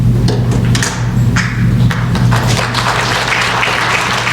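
An audience claps at an arangetram, a dense, fairly loud wash of applause from a crowd in a hall, with scattered sharper claps and a low hum underneath.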